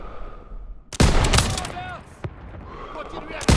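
Bursts of World War II gunfire from Call of Duty WW2: a sharp volley crackles in, rattles and fades, then a single report and another loud burst at the end, with game voices shouting beneath.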